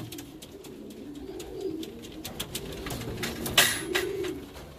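Racing pigeons coo softly in a rainy loft after returning from a 360 km race from Madrid, Spain: low, repeated murmuring coos under light rain patter, with a brief clatter near the end.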